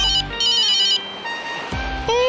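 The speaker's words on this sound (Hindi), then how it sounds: "फोन आ रहा है" A phone ringtone plays as a loud, close electronic melody in repeating bursts of bright tones, with no talking over it.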